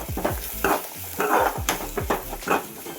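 Cumin seeds crackling in a small amount of hot oil in a kitchen pan, giving a close, uneven sizzle with sharp pops and stirring scrapes coming in bursts.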